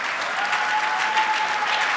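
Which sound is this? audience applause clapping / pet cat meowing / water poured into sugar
audience applause clapping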